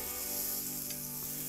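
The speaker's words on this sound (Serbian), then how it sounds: "Meni je ovo cvrčanje" Rolled chicken fillets, filled with mozzarella, sizzle in a frying pan while browning on all sides; a steady, close, even hiss and crackle of hot fat continues without pause and with no talking.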